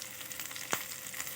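Curry leaves, cashews and green chilies fry in oil as a tempering for semolina idli. A faint, steady sizzle with one small crackle, and no voices.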